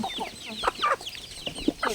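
Chickens cluck close by in a rural mountain village, a string of busy clucks and squawks filling the moment with no talk.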